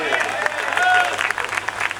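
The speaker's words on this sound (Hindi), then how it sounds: "एक बार जोरदार इसके लिए तालियां बजा दो।" Audience at a Hindi comedy poetry show (hasya kavi sammelan) clapping, a burst of scattered claps with voices and a brief tone mixed in.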